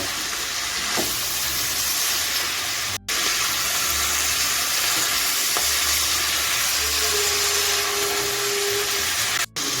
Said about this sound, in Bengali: দুয়ের থেকে তিন মিনিট মিডিয়ামে আমি ভেজে নেব